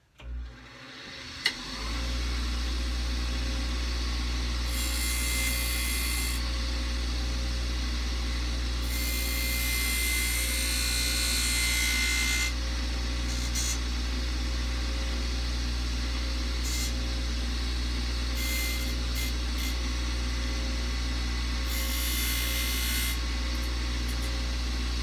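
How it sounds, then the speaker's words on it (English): A power grinder grinds down the fret ends on a cigar box guitar neck in a workshop, a steady loud whine held for about 25 seconds with repeated bursts of harsher grinding. "Okay, now we're gonna grind down the fret ends."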